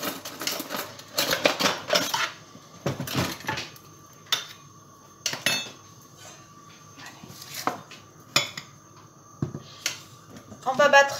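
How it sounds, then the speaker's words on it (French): Sugar and four eggs being beaten in a bowl for a chocolate cake, a busy clattering whisk or beater scraping against the bowl in uneven bursts, close, with someone speaking throughout. "On va battre le sucre"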